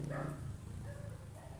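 A dog whimpers and yelps after being hit by a motorcycle, its cries faint and somewhat distant over steady outdoor background noise.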